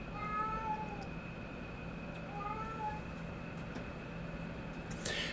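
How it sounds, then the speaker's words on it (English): A cat meowing twice in drawn-out rising-falling calls, fairly close over a steady background hum from a drone, ending with a brief rustle. "And that was my cat having one of her,"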